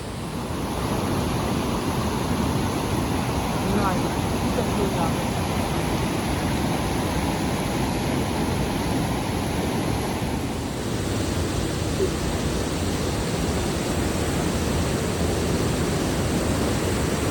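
Strong river current rushing continuously near Kalu waterfall, a steady loud broadband roar of turbulent water that shifts slightly in tone partway through, with no voices.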